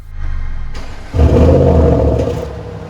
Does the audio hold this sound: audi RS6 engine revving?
yes